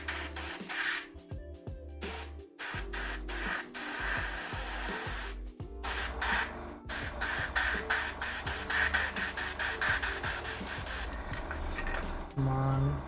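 Airbrush spraying pure black paint at high PSI, bursts of loud hissing spray broken by short pauses over about thirteen seconds, with a voice talking in the background.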